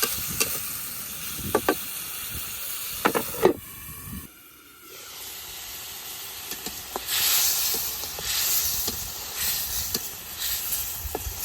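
Dried fish sautéed in a spice paste sizzles and hisses steadily in the pan, with scraping and stirring knocks, a brief lull, then a louder, wetter frying hiss resumes.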